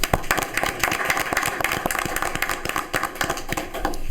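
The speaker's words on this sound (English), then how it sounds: "I'd like to give a round of applause." Applause during a Lorain City Schools board of education meeting, a steady patter of many hands clapping in an indoor room, moderately loud and continuous throughout with no talk.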